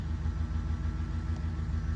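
A Grumman step van's engine idling under added load from a DC-to-DC battery charger, a steady low rumbling drone recorded close, with no voices.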